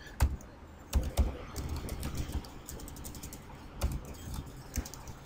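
Typing on a computer keyboard in Photoshop, with irregular clusters of close, crisp key clicks and a few louder taps between quieter stretches.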